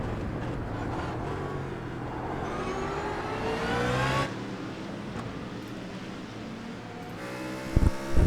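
Race cars roll out at Spa in the iRacing sim, engines droning and rising in pitch as they accelerate at a moderate distance, with wind-like noise and a few thumps near the end.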